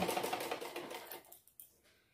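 A sewing machine runs in a quick rapid patter of stitches along the edge of a thin cord, then slows and trails off into near silence with a couple of faint clicks.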